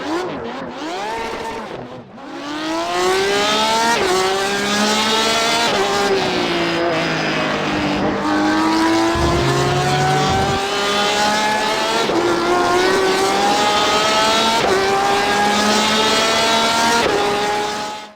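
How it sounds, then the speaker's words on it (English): A Porsche RSR race car in the iRacing sim gives a loud, raspy engine note that climbs through the revs in repeated rising sweeps, dropping briefly at each gear change before pulling up again, with no voices over it. "So let's move on to how the car sounds."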